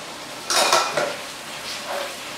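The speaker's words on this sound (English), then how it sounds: "Give that a good mix up." Beef mince stirred in a pan for a tortilla stack, with a few clattering utensil scrapes against the pan in quick succession, then quieter scraping, close and alone without talk.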